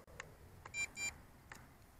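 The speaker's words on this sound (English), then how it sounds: "So we need to turn on the TX transmitter." Radio transmitter for a Bugs 2 quadcopter drone switching on, giving a few short electronic beeps in quick succession, faint and close, with no talking.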